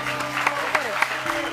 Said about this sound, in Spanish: Démosle un aplauso a Patti, por favor.